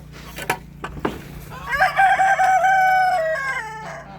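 A rooster crows loudly and close in a backyard poultry yard, following a few sharp clucks and knocks, with a long warbling crow holding for about two seconds.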